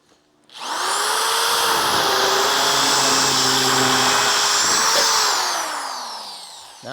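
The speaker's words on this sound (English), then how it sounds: "I used the burr to basically bore out the hole" A burr bit bores out spot welds on a Dodge Charger crew cab body under restoration, a loud steady high-pitched grinding whine running about five seconds before winding down, with no talking.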